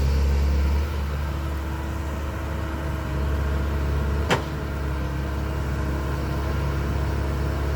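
A steady low mechanical hum and rumble of a Komatsu PC130 excavator's hydraulic pump, continuous throughout, with one brief sharp knock midway.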